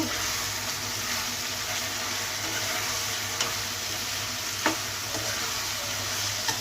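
Raw banana (plantain) pieces frying in a pan, a dense continuous sizzle with occasional faint ticks of stirring, steady and close throughout without speech.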